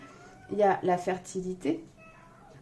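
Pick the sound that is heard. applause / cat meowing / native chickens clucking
cat meowing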